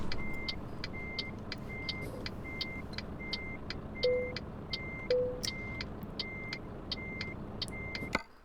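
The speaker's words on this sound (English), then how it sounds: "You can still hear Big Man reversing in front of us" Evenly spaced reversing beeps from a truck in Euro Truck Simulator 2 repeat over a low engine rumble, with two brief louder tones partway through.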